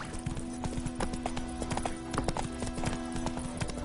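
Horse hooves clip-clop in a steady, brisk rhythm in The Witcher 3 video game, loud and close over a constant low ambient hum, with no speech.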